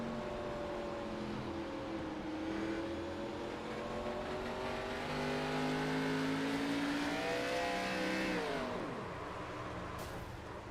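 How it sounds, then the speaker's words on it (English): A NASCAR race car engine screams at high RPM on the New Hampshire track, its pitch climbing and then spiking sharply as the wheels lose grip, before dropping away abruptly. The engine is loud, continuous and alone. "you hear right there the RPMs go too high as those wheels no longer have grip on that racing surface"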